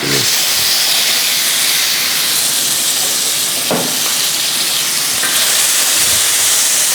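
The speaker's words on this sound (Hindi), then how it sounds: "अब ये पैन अच्छी तरह से गर्म है तो हम दोबारा से बाकी के पीसेस भी डाल देते हैं" Mutton pieces are dropped into a hot pan and sizzle with a loud, continuous hissing spatter that stays dense and steady, with a few sharper crackles.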